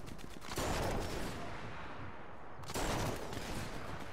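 Rifle fire from the video game Sniper Elite 4 comes as two loud, broad blasts with long noisy decays, one near the start and one past the midpoint, alone and close.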